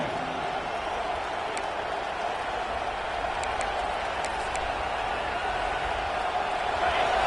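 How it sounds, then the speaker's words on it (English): A college football stadium crowd roars steadily throughout as fans cheer on the defense, a dense, continuous wash of noise with a few faint whistles or shouts on top. "The roar of the crowd trying to fuel this defense to keep them pinned in their own end."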